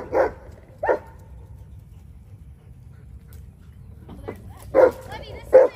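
Ziggy, a small dog, gives sharp yips and whimpering barks in short separate bursts, two early and a pair near the end, with quiet gaps between and a person talking around them.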